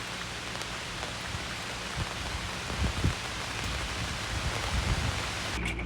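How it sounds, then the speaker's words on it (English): Heavy rain pours steadily during a mountain thunderstorm, a constant dense hiss of drops hitting surfaces with a few slightly louder splashes, close and unbroken, with no voices. "Nothing like a mountain thunderstorm to put you right to sleep."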